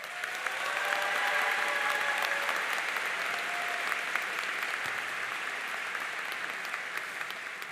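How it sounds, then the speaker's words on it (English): Sustained applause from a crowd at a university graduation ceremony for the class of 2025, a broad steady wash of clapping that holds evenly throughout with a few faint voices and whistles mixed in. "Let's give her another round of applause."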